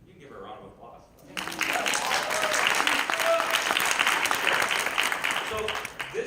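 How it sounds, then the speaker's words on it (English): An audience at a conference stage event breaks into loud, sustained clapping after a quiet opening moment, with the applause rising abruptly and staying full and steady until it eases slightly at the end. "You can give her a round of applause."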